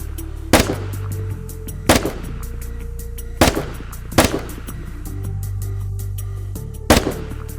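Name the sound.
gunfire shooting at targets in a video game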